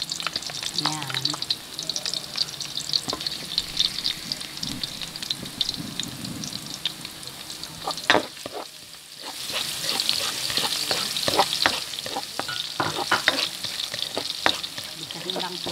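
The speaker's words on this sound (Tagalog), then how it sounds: "Painitin lang po natin ng mantika. Lalagay na po natin ng 6 na butil na bawang." Six garlic cloves sizzle steadily in hot cooking oil for a Pancit Malabon dish, a dense crackling hiss with occasional stirring clatter that grows louder midway; a voice speaks one brief word.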